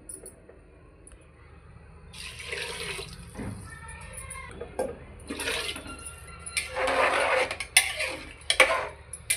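Water is poured from a metal pot into a cooking pot of spiced pea pulao, making several close bursts of gushing splashes that grow louder and fuller toward the end, with no talk.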